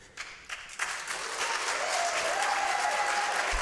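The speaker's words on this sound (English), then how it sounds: "if we could hold off on the clapping, please" Clapping breaks out in the public gallery at a municipal general committee meeting, starting with a few scattered claps and swelling into steady applause.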